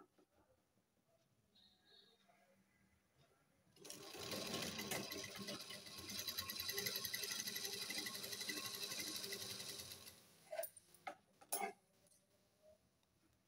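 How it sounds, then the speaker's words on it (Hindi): A sewing machine stitching a salwar seam runs steadily for about six seconds of fast, even whirring, then stops, followed by a few sharp clicks and handling sounds in a quiet room. "हम इसको यहाँ कुछ दूर को सिलाई लगाएंगे"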